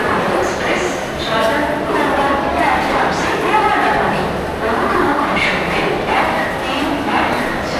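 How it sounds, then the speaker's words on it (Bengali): A dense crowd murmurs and chatters continuously in the large echoing space of Sealdah railway station in Kolkata, with voices overlapping and a low rumble beneath. "শিয়ালদা রেল স্টেশনের ব্যস্ততা বা মানুষের কীরকম চাপ"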